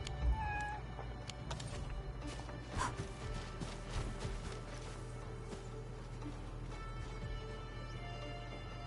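A kitten in Arknights: Endfield gives faint, repeated high meows over a steady low mechanical hum, with occasional clanks and creaks nearby.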